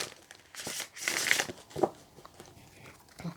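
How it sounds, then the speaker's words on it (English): Tarot cards from a Spellcaster's deck being shuffled at close range, a short burst of crisp papery riffling and crinkling with a few soft taps, no talking. "Let's give it one more shuffle."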